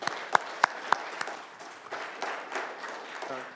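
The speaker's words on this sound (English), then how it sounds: "let's give him a clap" Scattered applause at a Waukegan city council meeting, a few sharp individual claps up front followed by a thinner patter of clapping in a quiet chamber, fairly faint overall.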